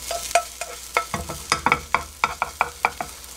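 Egg roll cooking in a pan, being rolled over low heat, with a steady soft sizzle broken by a quick series of scraping and tapping stirs from a utensil close by.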